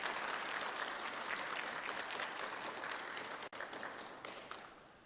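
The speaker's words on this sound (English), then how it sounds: "let's give her a round of applause" Audience applause at a community health conference in Milwaukee: loud, dense clapping from a full room holding steady for several seconds, then easing off toward the end.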